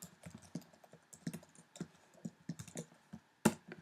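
A print line being typed on a computer keyboard: irregular bursts of soft key taps spread steadily across the stretch, close and quiet, ending in one sharper louder clack, with no voices.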